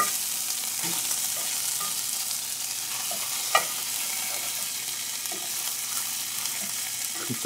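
Rainbow trout frying in a pan with a steady, close hiss of sizzling oil and a few soft stirring clicks.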